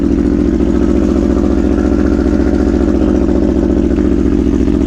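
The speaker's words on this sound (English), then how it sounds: "And how about a cold start?" An Aprilia Tuono V4 1100 Factory motorcycle idles after a cold start, a loud, close, steady V4 engine drone with a fast even pulse and some mechanical clatter, holding constant throughout with no talking.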